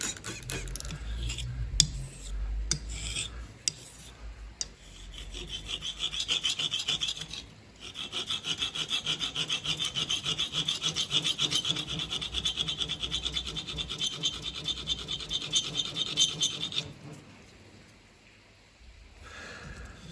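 A straight razor is stroked steadily across an Arkansas whetstone, giving a continuous rasping, rubbing scrape with short pauses and a long sustained run of even strokes, close and alone before fading out near the end.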